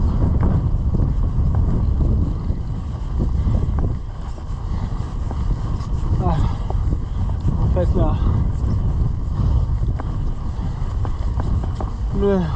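A violent headwind of roughly 30 to 40 km/h buffets a cyclist riding in a long-distance race across France, roaring steadily against the microphone while someone talks over it.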